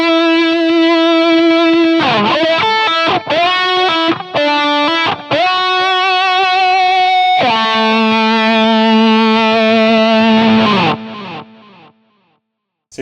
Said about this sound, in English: Then I'm going to switch on the wah, and by itself, it sounds like this.